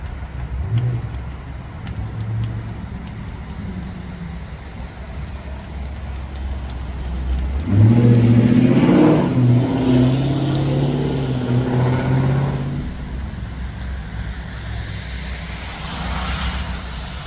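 A big banana-shaped art car drives past outdoors, its engine rising to a loud rumbling pass in the middle before fading back into the roadway noise.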